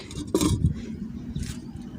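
A metal lid clanks onto a clay cooking pot of simmering chickpeas in one quick clatter, then soft kitchen noise continues.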